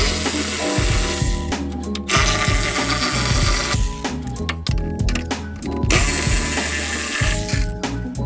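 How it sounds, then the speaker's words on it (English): A ratchet clicks steadily while screws come out of a Polaris RZR belt cover, quick bursts of close, loud pawl ticking with brief pauses between screws and a faint hum beneath. "you can continue just taking the rest of the screws off all the way"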